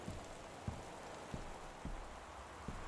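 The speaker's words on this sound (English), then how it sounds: "even when I turn my head, the rain sounds different" Steady rain falls in Gone Home as a dense, even hiss, with soft periodic thumps in a slow rhythm beneath it.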